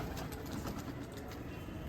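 Pigeons on a village rooftop coo softly in low, repeated murmurs, close by and fairly quiet, against a faint background hum.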